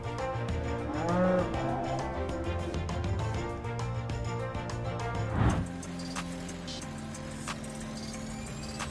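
Cows moo in a dairy milking parlor, long drawn-out calls over a steady mechanical hum of milking equipment, with a louder nearby moo partway through.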